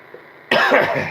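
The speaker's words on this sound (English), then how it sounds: "This cough is getting worse." A single harsh, close cough from a man who has been ill for nearly two days bursts out after a half-second of quiet room tone, followed by a rough, rattling tail.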